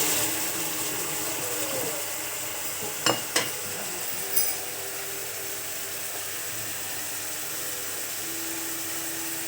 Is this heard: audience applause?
no